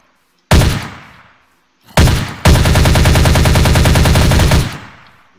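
Video-game assault rifle (the MPT from the Minecraft Crafting Dead mod) firing loudly: a single shot, a second shot, then a sustained rapid stream of gunfire for about two seconds, heard alone without talk.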